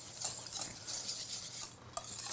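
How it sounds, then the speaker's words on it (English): Dry muffin ingredients, including baking soda, being mixed in a bowl, giving a soft, steady scraping and rustling stir at close range with one sharper clink near the end. Nobody speaks. "So go ahead and just mix that dry ingredient up a little bit."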